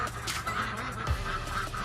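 Farm ducks call in a short burst, a few nasal honking quacks rising over a steady background murmur, close and moderately loud.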